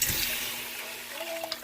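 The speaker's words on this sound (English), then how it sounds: "And now it's time to add the water to it." Water pours steadily into a pot holding chicken gizzards in a home kitchen, a continuous close rushing splash with no talking over it.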